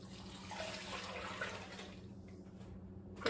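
Beef broth pours into a slow cooker for cabbage roll soup, a steady close liquid splashing and trickling throughout, softening toward the end with a brief louder clatter at the finish.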